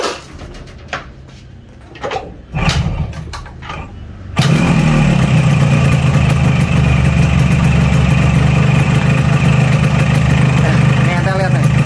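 A Yamaha RX King motorcycle fitted with a racing CDI cranks a few times, fires up and settles into a loud, steady running note close by. Light handling clatter comes before the start.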